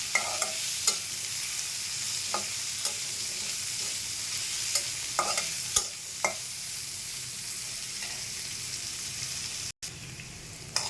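Chopped onion frying with potatoes in oil for a rohu fish curry, a soft steady sizzle with occasional spatula scrapes and taps, fairly quiet and close, no speech.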